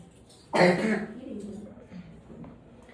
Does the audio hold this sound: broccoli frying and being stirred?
no